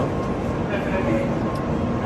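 A Japanese bullet train runs through a station with a steady, moderately distant roaring rumble, while voices murmur faintly nearby.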